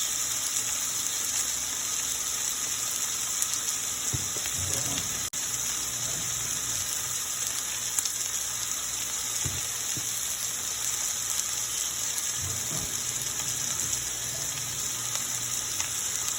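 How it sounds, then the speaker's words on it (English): Steady, hissing sizzle of vegetables frying in a pot for Liberian-style dry rice, continuous and close, with a few faint clinks and stirring bumps. "I'm just gonna let this fry for about 10 minutes."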